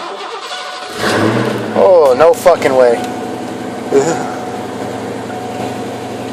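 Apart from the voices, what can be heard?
Ford Mustang car engine starting and running after two years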